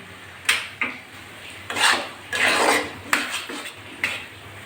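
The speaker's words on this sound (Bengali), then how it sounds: "একটা প্লেটে তুলে নিচ্ছি" Cooked bottle gourd curry with lentil dumplings is served onto a plate. A spoon scrapes and clinks against metal cookware in several separate bursts, some short and some drawn out.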